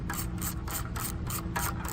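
Torx screws being turned out of a side cover, a close, steady repeating rasp and ratchet-like clicking of a driver working at a regular rhythm, with no talking.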